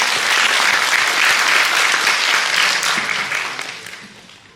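Loud, dense applause from the audience at a policy forum on residential facilities for people with disabilities, welcoming a lawmaker to the podium, steady for several seconds before tapering off.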